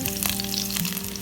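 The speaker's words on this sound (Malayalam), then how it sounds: "പച്ചമുളക് ഏതാണ്ട് മൂത്ത് വന്നിട്ടുണ്ട്" Green chillies frying in oil with fennel seeds for an egg roast, giving a loud, close, continuous crackling sizzle.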